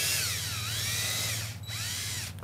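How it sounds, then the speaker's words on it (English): A power drill runs steadily while pre-drilling screw holes for a cut-to-length hinge on a strawberry bed cage, its motor whine rising and dipping with load and briefly easing near the end, close and loud. "we're pre-drilling"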